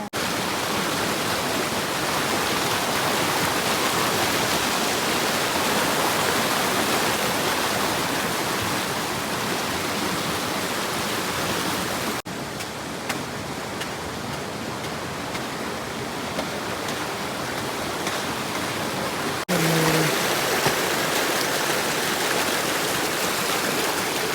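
Water rushes over a check dam in a continuous, loud, broadband roar, steady throughout with a short stretch of slightly muffled sound midway and no talking.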